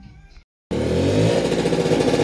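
A 1992 Vespa PK50XL 50cc two-stroke scooter engine starts up and keeps running loud and close with a buzzing, slightly fluctuating idle after a brief silence.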